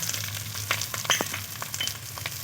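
Ground coriander and cumin frying in hot oil in a pan for a Bengali fish curry, a steady close sizzle with light crackles and stirring scrapes, no voices.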